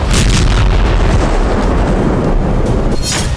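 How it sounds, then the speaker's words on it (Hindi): A guided missile fired from a small vehicle strikes a Ukrainian ammunition depot in the Artyomovsk area and sets off a powerful explosion. A loud, sustained roaring blast rumbles throughout, with a fresh sharp burst near the end. "छोटे से वाहन से गाइडेड मिसाइल फायर की गई और चंद सेकंड बाद एक जोरदार धमाका हुआ।"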